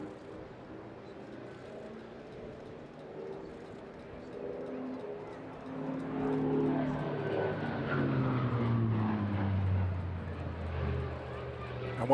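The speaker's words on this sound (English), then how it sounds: "What a tremendous sound that is, isn't it? It's a fantastic machine, a fantastic engine." A warbird's piston aero engine roars during a flypast at the Eastbourne International Airshow, building from a distant drone to a loud, sweeping pass whose pitch drops as it goes by, while a commentator talks over it.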